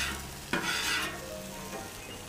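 Vegetables sizzling on a Camp Chef griddle, a close steady crackle with a sharp scrape of a spatula pushing them across the hot surface, no talking.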